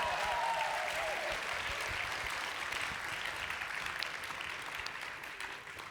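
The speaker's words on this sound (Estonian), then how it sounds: "Teeme suure aplausi!" A large audience bursts into loud, sustained applause after a performance at a school stage show, the clapping steady and dense throughout before thinning slightly toward the end.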